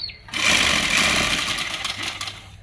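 A sewing machine runs a short burst of stitching on lace for a Pakistani salwar. A close, steady, rapid whirring chatter starts abruptly, holds for about two seconds, then slows and stops.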